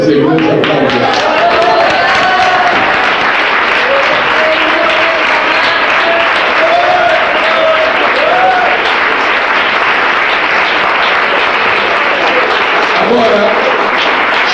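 A church congregation bursts into loud, sustained applause, dense clapping from many people filling the room throughout, with voices and brief sung or spoken tones mixed in underneath.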